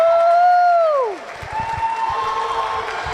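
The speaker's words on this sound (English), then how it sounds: "I'm going to join in with the cheering on." At an indoor swim meet, a single voice whoops a long falling 'woo', then a crowd breaks into sustained clapping and scattered cheering that carries on to the end.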